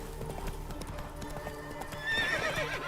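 Roach, Geralt's horse in The Witcher 3, gallops with a steady, close clip-clop of hooves, and a whinny rises near the end over faint game ambience.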